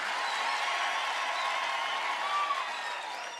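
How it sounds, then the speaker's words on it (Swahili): A crowd at a political rally in a market in Meru claps and cheers in a dense, continuous wash of applause that fades slightly at the end. "Si umpige makofi basi."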